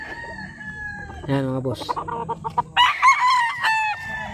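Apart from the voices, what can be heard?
gamefowl roosters crowing at a game farm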